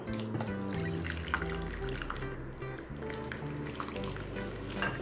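Cooked drumstick leaves being strained in a home kitchen after pressure cooking, water pouring and trickling through a strainer in an uneven, splashing stream, with clinking of the vessel and a low hum in the background.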